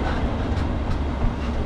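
Steady low rumble inside a London Underground train, a continuous roar of wheels and motor with faint rattles, close and loud throughout.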